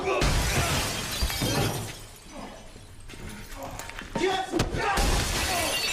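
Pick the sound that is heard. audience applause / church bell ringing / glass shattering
glass shattering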